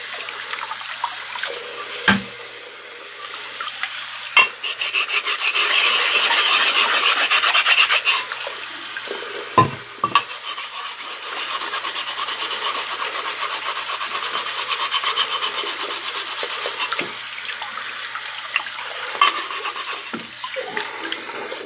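A whetstone rubbed back and forth on a worn Norton flattening stone with water, giving a steady wet rasping scrape close by, broken by a few sharp knocks and clicks.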